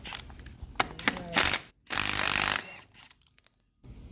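A ratchet wrench works the pulley off the power steering pump of a Honda Ridgeline V6 in a series of close clicking ratchet strokes, with short pauses between bursts and no talking.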